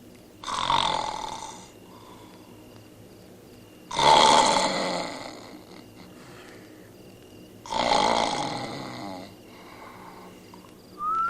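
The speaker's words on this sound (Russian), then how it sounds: "храпеть нехорошо" A person snores three times, each a loud, rough, drawn-out breath spaced about three and a half seconds apart and heard up close, with quiet between them.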